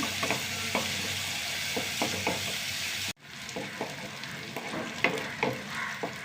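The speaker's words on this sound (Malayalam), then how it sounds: "ഉള്ളി നന്നായി മൂത്ത് വരട്ടെ" Onions browning in a pan give a continuous close sizzle with scraping stir strokes throughout, a brief break midway and then the frying carries on with no voices.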